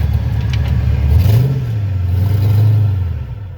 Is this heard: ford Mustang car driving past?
yes